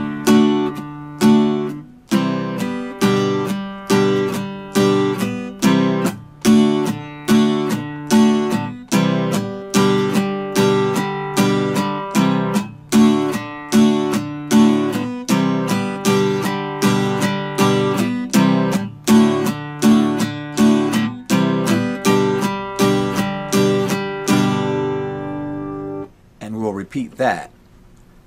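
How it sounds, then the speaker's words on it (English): Acoustic guitar strummed in a steady pattern for a song, with bright chords repeating evenly for nearly half a minute before a short pause and some lighter strums. "We'll start with one downstroke, like this. Come up, and everything after that will be up."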